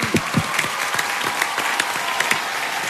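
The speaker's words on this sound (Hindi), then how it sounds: "शिवांगी के लिए जोरदार तालियां।" An audience applauds dancer Shivangi on a dance show: a dense, steady wash of many hands clapping, fairly close and loud, with a few sharper claps standing out near the start.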